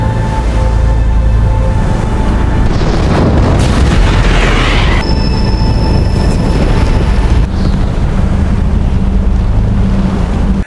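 An oil tanker ship blows up in a war film battle at sea, a loud sustained rumbling roar with deep booming low end and rushing noise throughout, no voices.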